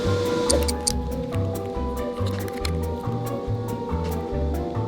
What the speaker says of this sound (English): I'm gonna squirt it inside this mold for some AirPods.